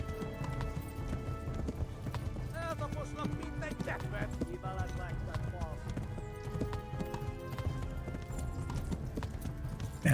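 Rapid rhythmic clip-clop of a galloping video game horse, its stamina nearly spent, continues steadily under layered game music and effects, with a voice talking over it.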